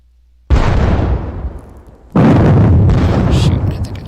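Artillery fires in the Napoleonic wargame JTS Campaign Marengo with two loud, close cannon booms, each with a long decaying rumble.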